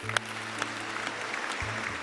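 A studio audience at a Bengali family game show breaks into steady, dense clapping, close and continuous, with a low hum underneath.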